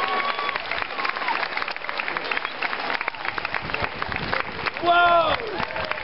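Audience applause at an outdoor street performance in Chester, a busy clapping crowd with scattered cheers and chatter, and a brief whistle-like squeal near the end.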